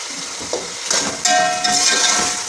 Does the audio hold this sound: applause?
no